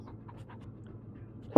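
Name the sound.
dog panting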